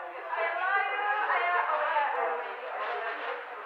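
A steady murmur of many overlapping voices, a crowd chattering indistinctly at moderate level with no single speaker standing out.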